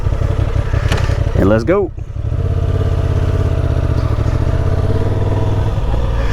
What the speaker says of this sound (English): let's get this bike all fired up